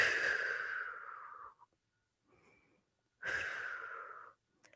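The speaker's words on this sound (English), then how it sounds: "Take a breath." A person draws two long, deep breaths during a calm self-care stretching session, each audible inhale lasting about a second and a half, separated by quiet, close and clear with no talking.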